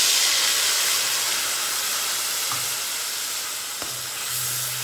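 A tomato, ginger and cumin paste sautés in a pan over cardamom and cinnamon, giving a continuous bright sizzle and hiss with a couple of faint spoon scrapes and no voices.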